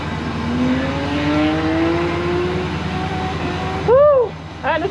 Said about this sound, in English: I think I'm just gonna take off in second and just leave the car in second gear